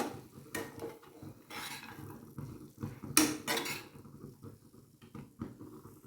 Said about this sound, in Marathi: परत एकदा शेंगदाण्याचा कूट पण यामध्ये आपण एकत्रित करून घेऊया